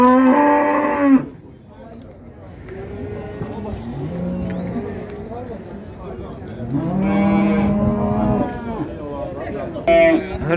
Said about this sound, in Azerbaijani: bu 3 dənə danadır